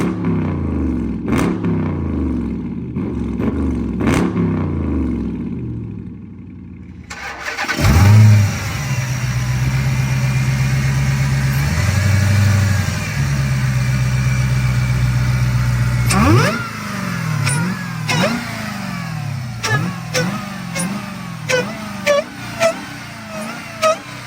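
A Dodge Charger R/T driving through city streets: the engine revs in repeated rising pulls, drops to a steady droning cruise with a high whine, then climbs again through a series of gear changes, loud and close.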